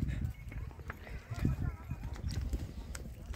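Horses on a mountain trail ride in Kashmir, hooves clip-clopping steadily at a walk, close by, with people talking over the rhythmic clopping.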